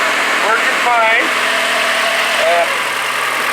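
A Kia car engine idling after a new radiator was fitted, with the idle air control valve working: a loud, steady, close running hum throughout, with brief speech-like tones sliding over it.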